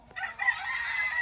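A rooster kept in a pigeon loft crows once, loud and close, a sustained ringing call after a brief lead-in.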